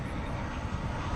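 An American Eagle CRJ-701ER regional jet arrives at DFW at night, heard as a brief, steady low rumble of jet engine noise, moderately loud and unbroken.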